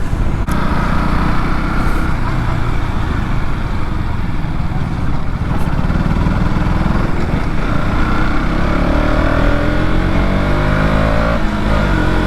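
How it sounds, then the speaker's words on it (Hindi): A BS6 KTM Duke 200 motorcycle engine drones loudly and continuously, with wind rumble and shifting engine pitch as the bike rides along. "मुझे ये बाइक टेस्ट राइड भी करनी थी, बहुत दिनों से टेस्ट राइड करना था।"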